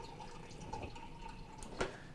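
A faint, steady trickle of water pours and drips from a Kenmore refrigerator dispenser into a glass, quiet and close, with one brief clink near the end.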